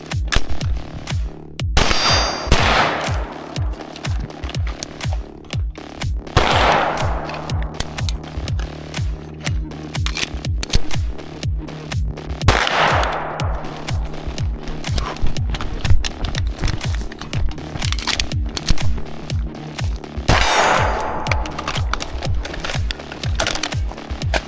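Staccato XC pistol fired in rapid strings at paper and steel targets on a run-and-gun range, sharp close shots with metallic rings from struck steel, repeated in several bursts with pauses between.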